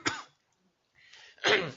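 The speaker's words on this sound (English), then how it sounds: "I believe I just coughed into the microphone." A single harsh cough right into a close microphone, then a short silence before a second rough throat-clearing cough. Both are loud and dry, with no talk during this meeting moment.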